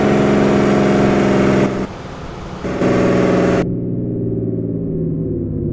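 A Volvo Marcopolo G8 1200 coach on the Cuenca to Guayaquil road runs its retarder, giving a loud steady whirring drone that dips briefly, returns, then drops to a quieter hum.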